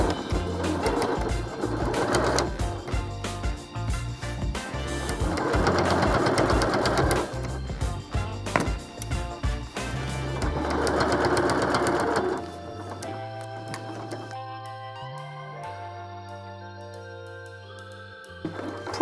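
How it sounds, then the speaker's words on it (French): A sewing machine runs in long bursts, stitching the full length of a seam on a large fabric toiletry bag, with short pauses between runs before it stops and the whirring fades to quieter mechanical sounds. "On va coudre sur toute la longueur"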